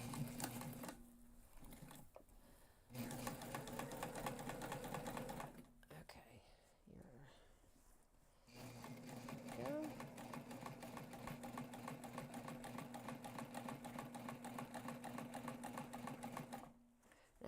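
A sewing machine stitches a backpack's laptop pocket panel in long, steady runs of rapid, even chatter with brief stops between passes, close and clear, while a person talks quietly over it.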